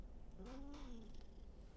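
A cat makes a short, raspy coughing vocalisation, a brief strained sound close by in a quiet room, with no talking.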